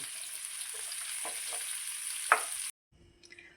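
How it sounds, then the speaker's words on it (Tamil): Onions fry with salt in a pan for a Namakkal-style egg gravy, a steady moderate sizzle with a few soft stirring scrapes, cutting off abruptly into near silence with faint clinks. "இந்த வெங்காயம் ஒரு பக்கம் வணங்கிட்டு இருக்கட்டும்"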